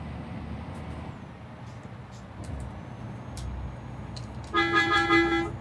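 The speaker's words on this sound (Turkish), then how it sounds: "Korna acayip yüksek." A truck horn sounds loud and sustained near the end in Euro Truck Simulator 2, blaring alone over the steady hum of the driving engine after a stretch of quiet cab noise.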